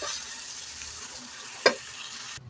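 Mutton and okra being stir-fried (bhunai) in oil in a pan: a steady broadband sizzle with one sharp scrape or clink of a spoon near the end, then a quieter tail.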